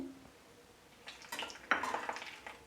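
Bay leaves, cloves and cinnamon sticks clatter into a metal wok, followed by light scraping and faint sizzling, quiet and close.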